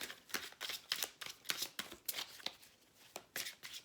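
Decks of spirit guide reading cards being shuffled by hand, a quick run of soft riffling flutters and light slaps in an uneven rhythm, close and quiet with no talk.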